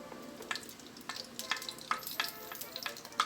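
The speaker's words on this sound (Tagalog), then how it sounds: "sa isang preheated pan, maglagay tayo ng cooking oil. Ayan. Idagdag natin yung ating butter." Butter sizzling as it melts into hot cooking oil in a preheated pan, with soft crackling and sharp intermittent pops and spits over a steady low fry, fairly quiet and without voices.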